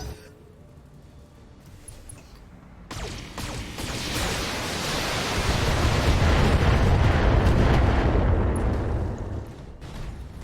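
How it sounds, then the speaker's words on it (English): A mech in BattleTech: Heavy Metal firing all its weapons, a rolling barrage of booms and blasts that swells into a sustained roar, then tapers off, with no talk. "Firing all weapons."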